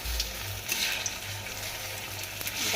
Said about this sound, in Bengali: এই বেসনগুলোর মধ্যে এটাকে ডুবিয়ে তেলে ছেড়ে দেবো।